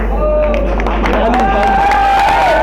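Crowd clapping and cheering at a prize distribution for a high-flying pigeon tournament, loud and steady throughout with a few whoops and shouts mixed in.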